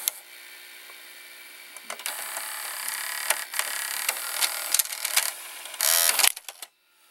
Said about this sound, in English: when it loads the tape, the motor turns faster when the tape insert